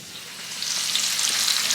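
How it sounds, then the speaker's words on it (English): Steak sizzles and fries in a pan at home alongside baked potatoes, a steady close hiss that grows slightly louder, with no talking. "Cooking the steak."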